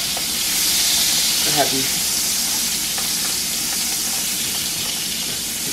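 Asparagus sautéing in butter in a pan, a steady close hiss and crackle of frying with some stirring clatter, while a person speaks briefly over it.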